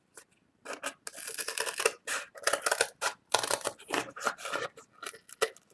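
Scissors cut card stock for a handmade card album cover, giving a run of crisp snipping and rasping strokes in quick irregular bursts, close and fairly quiet, with no talk.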